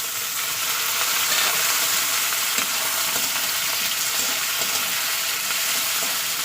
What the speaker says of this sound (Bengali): তো টমেটোগুলো একটু 2-3 মিনিট একটু সাঁতলে নিতে হবে তেলের উপরে।